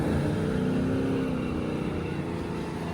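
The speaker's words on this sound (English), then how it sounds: "He's just revving it out in first gear 4 low" A vehicle in first gear, four-wheel-drive low, on soft beach sand at St. Augustine Beach, its engine revving with a steady, loud, continuous roar. Wind or surf noise blends in throughout.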